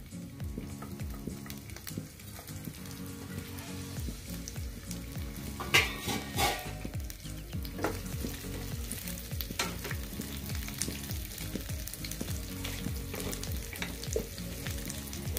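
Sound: onion and green chilli tempering frying in a pan

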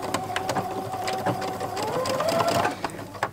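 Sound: sewing machine stitching with a zipper foot, understitching

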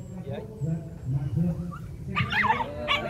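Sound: dog whimpering while toying with a rat

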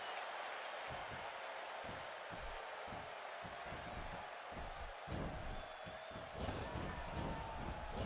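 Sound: crowd cheering in WWE 2K16 video game arena

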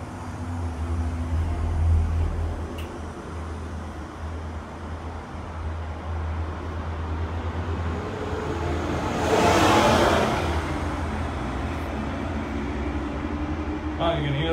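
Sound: buses driving below

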